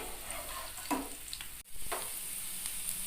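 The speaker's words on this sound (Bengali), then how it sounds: "একটা পিঠ ভালো করে ভাজা হয়ে গেলে অপর পিঠটা উল্টে দিতে হবে সেটাও কিন্তু গ্যাসের ফ্লেমটাকে মিডিয়ামে রেখে" Chowmein pakoda fry in oil on a medium flame, giving a steady close sizzle with a brief clatter as pieces are turned, the frying carrying on evenly afterward.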